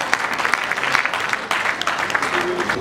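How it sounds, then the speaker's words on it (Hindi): An audience at a Shri Mahavir Yuvak Mandal community function claps in welcome, a steady dense patter of applause with a faint voice and murmur underneath. "मैं रिक्वेस्ट करूंगा सबसे कि एक ताली बजा के पोखरा जी को इनवाइट करें।"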